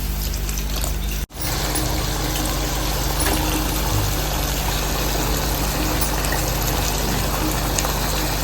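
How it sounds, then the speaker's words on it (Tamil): A steady, loud rush of water pouring into a pan of chicken curry, continuous and close, with a brief break near the start. "தேவையான அளவு தண்ணி ஊற்றிக்கலாம்"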